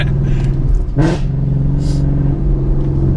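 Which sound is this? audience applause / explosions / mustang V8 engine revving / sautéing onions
mustang V8 engine revving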